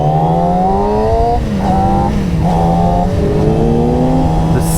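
A Yamaha R6 motorcycle with an Akrapovic exhaust rides through city streets in Pilsen, its engine droning loud and close with rising and falling revs over steady road noise.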